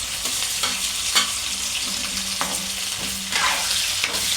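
Potato pieces fry in hot oil for potato kurma, with a steady loud sizzle and occasional stirring clicks throughout.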